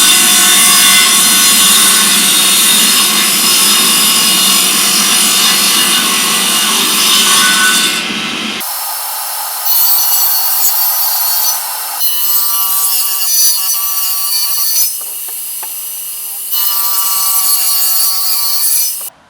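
Makita circular saw cutting through wood, loud and continuous for several seconds, then shorter bursts of cutting broken by brief pauses as the blade spins down and restarts.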